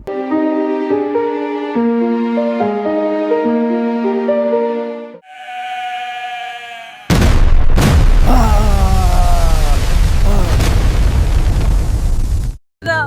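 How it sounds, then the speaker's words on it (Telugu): A sudden, heavy bomb blast on a canal bank erupts after a stretch of melodic music, followed by a long roaring rumble with crackling debris before cutting off abruptly. "కాలువ గట్టున జరిగిన పేలుడు"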